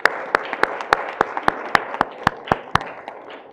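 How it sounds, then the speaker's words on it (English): A small audience at a county board meeting gives award recipients a round of applause, with a few sharp, distinct claps standing out in a steady rhythm over softer clapping that fades at the end. "Another round of applause for our awardees."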